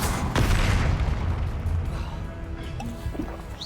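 Fiery Confringo spell blast in the video game Hogwarts Legacy: a loud booming burst near the start that rolls into a low rumbling decay, with faint game effects trailing after.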